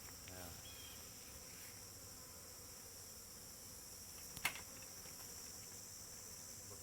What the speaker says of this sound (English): Very heavy. A lot of bees.